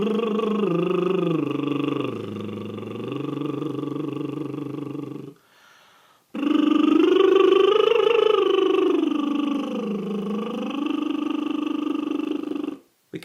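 Lip trill vocal warm-up singing a 1-3-5-3-1-5-1 pattern: a buzzing, purring voiced tone gliding up and down the scale in two sustained phrases separated by a short breath, close and alone.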